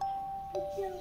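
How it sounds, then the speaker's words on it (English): Electronic doorbell chime at a home, a steady high tone followed by a lower two-note ding-dong within a second, fairly clear and close. "You ring the bell,"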